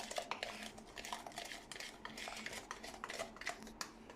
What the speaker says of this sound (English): You can stir or you can flip it around. I prefer to stir